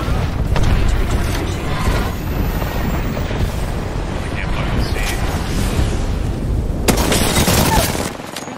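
Apex Legends combat comes through as a rumbling, sustained roar of blasts and gunfire, with a sharper burst near the end. Loud, close booms sit under a player's voice.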